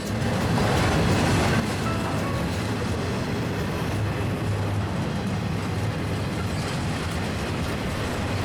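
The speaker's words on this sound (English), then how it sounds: "After the intermodal train rolled on by" An intermodal freight train rolls past on Pennsylvania Railroad track near a tunnel portal, a loud, close, continuous rumble of wheels and cars with no voices.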